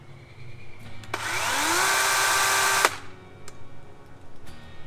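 A DeWalt 20V Max XR cordless chainsaw whirs up to speed with a rising motor whine, runs steadily for under two seconds, then cuts off abruptly as the chain brake engages, leaving quiet.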